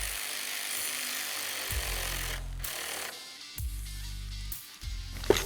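Windshield clamps on a Polaris RZR are tightened with a power driver, heard as three loud buzzing bursts separated by short pauses, with no talking.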